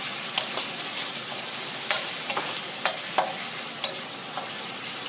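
Squid and shrimp stir-fried with garlic in a pan give a steady bright sizzle, with a spatula scraping and clicking against the metal every second or so; no voices.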